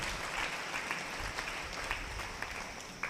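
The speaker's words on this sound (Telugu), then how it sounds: "గట్టిగా చప్పట్లు కొట్టండి," A church congregation claps loudly and steadily at a preacher's urging, an even wash of many hands with no voices over it.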